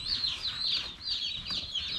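Cornish Cross meat chicks peep in their shipping box, many high, shrill chirps overlapping continuously and close up, with no talking.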